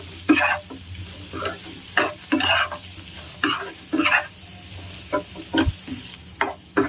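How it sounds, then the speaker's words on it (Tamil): Garlic chicken masala frying over a medium flame while being stirred: repeated short scraping stirs with a spoon in the pan, about a dozen irregular strokes over a soft, continuous sizzle, close and alone. "இது ஒரு 5 நிமிஷம் நல்லா மீடியம் ஃப்ளேம்ல நல்லா இந்த மசாலாலாம் ஃப்ரை ஆகணும்."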